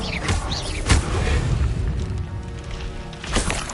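Expelliarmus spell impact in Hogwarts Legacy: a deep magical boom with a thudding hit near the start and another swell at the end, over a busy, rumbling game soundscape.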